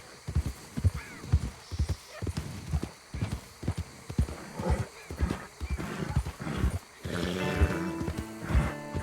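A nervous horse in Red Dead Redemption 2, near alligators, with steady clip-clop hooves on the ground, a clear neigh and whinnying toward the end, and snorts, close and fairly loud with faint background sound.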